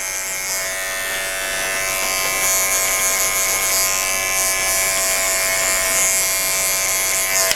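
Electric hair clippers buzz steadily and close up while cutting a skin fade, the blade corners clearing lines, with a bright continuous whine that swells slightly partway through and carries on alone without talk.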